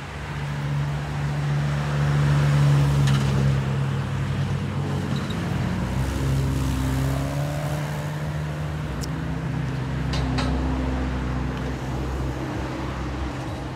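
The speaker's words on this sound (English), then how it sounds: "Here comes a mail truck." A mail truck drives past outdoors on a residential street on an afternoon, its low engine rumble and tyre noise rising and falling steadily across the stretch, with faint wind in the background.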